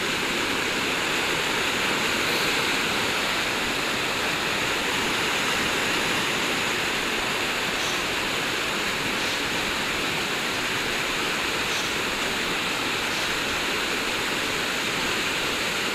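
A waterfall at Mirabeau Point Park in Spokane roaring in a constant, dense rush of falling water, loud and unbroken throughout.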